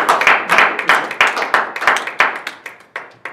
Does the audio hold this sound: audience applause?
yes